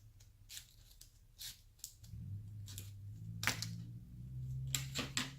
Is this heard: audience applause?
no